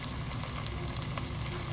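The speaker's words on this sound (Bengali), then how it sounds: "পেঁয়াজ এখানে ছোটো ছোটো ঘির মধ্যে ভাজতেছি।" Chopped onions frying in ghee for a children's chicken biryani, a steady close sizzle with faint crackles running throughout the short stretch.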